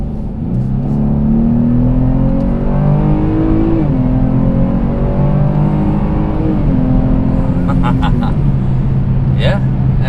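A 2021 Chevy Blazer RS SUV accelerates hard in sport mode, its engine note climbing steadily through the gears with brief dips at each shift, loud and close from inside the cabin.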